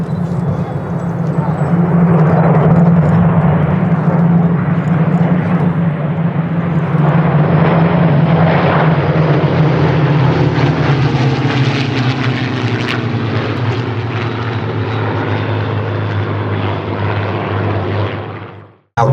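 Spitfire fighters sweep past at an airshow, a loud, close propeller engine drone that holds strong, then fades and shifts in pitch as the planes bank away in a tight turn.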